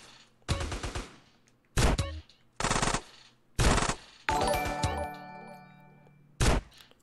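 Automatic weapon fire in the video game GTA San Andreas, sharp loud bursts of rapid shots repeated about six times with short gaps, one longer burst ringing out with metallic echoes.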